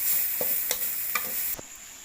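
Spicy eel is stir-fried dry in a pan with a continuous bright sizzle and four or five quick rhythmic scraping strokes of the spatula, heard up close with no voices.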